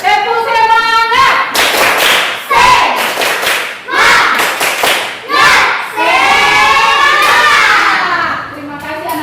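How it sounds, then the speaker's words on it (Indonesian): A classroom of children repeats a spirited clapping chant, loud claps and thumps landing in quick rhythmic groups while their voices shout and sing along throughout. "Satu kali lagi. Tepuk semangat."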